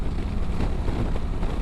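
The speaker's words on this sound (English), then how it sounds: "Still a lot of wind noise, though" Heavy wind buffeting and rushing across the microphone while riding a 2024 Honda Africa Twin Adventure Sports ES DCT at highway speed on the Autobahn, a continuous loud low roar.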